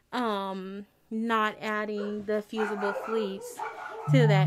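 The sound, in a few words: dogs barking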